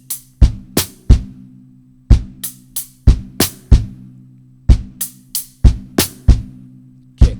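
Drum kit groove played in repeating bars: sharp kick and snare-like hits in a left, right, then together pattern, crisp and close, with low tonal ringing between strikes.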